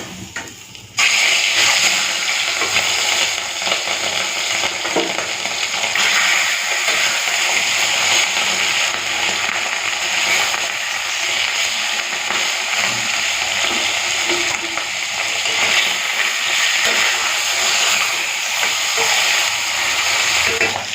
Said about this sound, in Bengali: এদিকে মাছটা ভাজা হতে হতে